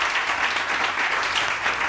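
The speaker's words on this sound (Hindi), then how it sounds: "अपने लिए तो तालियां जरूरी है ना।" A studio audience on a morning television show breaks into steady, dense applause that carries at an even level throughout the short stretch.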